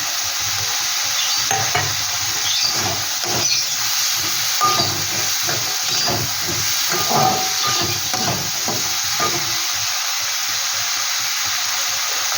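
A ginger, garlic and green chilli paste sizzles steadily and loudly in a hot pan, with recurring scrapes and clinks of stirring throughout and no talking.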